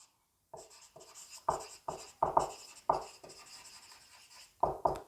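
Chalk or marker strokes on a board during a chemistry lesson, a series of short scratchy bursts in uneven rhythm, close and fairly quiet with gaps between words.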